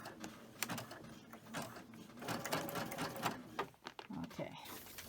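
A sewing machine stitches a zigzag on a quilt block, giving a rapid mechanical whirring chatter in short runs with pauses, fairly faint, with a person talking quietly over it.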